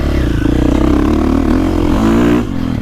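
A KTM 450 SX-F four-stroke dirt bike engine runs loud and close in a sustained high-rpm buzz with clattery mechanical texture, then drops off sharply just before the end.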